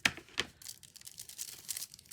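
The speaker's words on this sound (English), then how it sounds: "this one is a little bit wider, so I'm going to use regular craft scissors" Regular craft scissors cutting wide petal shapes from repurposed material, a quick run of close, dry crisp snips and crinkly rustles with no talking.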